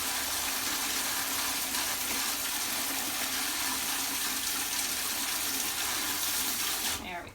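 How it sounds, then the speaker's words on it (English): Warm water pours steadily from a tap as a livestock feed mash is soaked, a continuous broadband rush that holds nearly unbroken and cuts off abruptly at the end. "So then we're going to turn on the warm water so that we can soak it"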